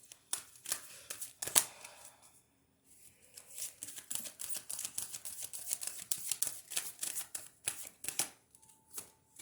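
Angel cards being shuffled by hand, crisp riffling and flicking in irregular bursts with a short pause partway, close and fairly quiet with no voices.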